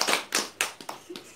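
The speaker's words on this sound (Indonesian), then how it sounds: "Tepuk tangan dulu Bu untuk semuanya." Small group clapping for presenters at a community health training session, a few separate bursts of claps spaced roughly a third of a second apart, close and fairly quiet.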